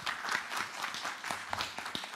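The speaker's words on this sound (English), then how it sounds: "Please give them a better clap." An audience claps at a university innovation and exhibition week in Kenya, with dense, steady applause from a crowd in a hall, many hands at once with no voices over it.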